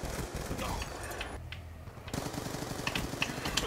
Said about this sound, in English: Watch, I'm going to shoot right before they come.